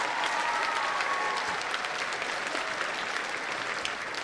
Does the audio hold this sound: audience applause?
yes